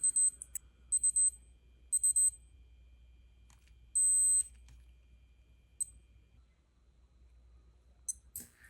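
A Casio G-Shock GBA-800 wristwatch gives crisp high beeps, three quick chirping bursts, then a longer tone and a final short beep, close and clear in an otherwise quiet room.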